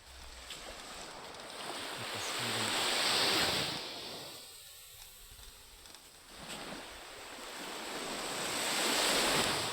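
Gentle waves wash onto the shore in slow swells, rising and receding, with steady wind noise buffeting the microphone.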